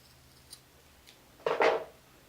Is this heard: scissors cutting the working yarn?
yes